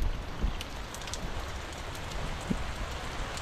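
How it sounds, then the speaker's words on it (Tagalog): Steady rain falling outdoors on a bitter gourd garden, a constant hiss with a few scattered louder drops and taps, with no voices. "patuloy yung pag-ulan dito"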